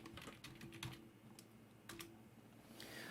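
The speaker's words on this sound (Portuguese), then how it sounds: "e vou digitar período" Typing on a computer keyboard while entering text into an Excel spreadsheet: soft, scattered key clicks in uneven bursts, quiet and close, with no voices.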